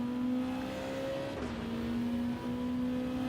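A race car engine in Gran Turismo 7 drones loudly and steadily at high revs during a World Touring Car 800 race at Autodromo Nazionale Monza, with a brief pitch dip mid-run as the car shifts or lifts through a corner.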